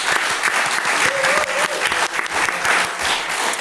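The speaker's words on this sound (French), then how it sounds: "on peut applaudir Bob Morlon quand même" Podcast studio guests applaud Bob Morlon with close, lively clapping, individual hand strikes standing out sharply within a busy, even burst that runs throughout.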